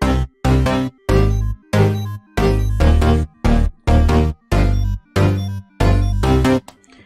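A loud synthesized bass line built from stock FL Studio presets plays short, punchy notes that jump up an octave, in a steady chopped rhythm with silent gaps between notes.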